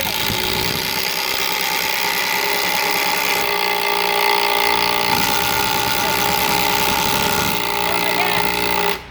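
Milwaukee and Makita impact drivers race each other driving screws at a tool media event, a loud continuous hammering whir running nearly nine seconds before cutting off abruptly, with crowd noise mixed in.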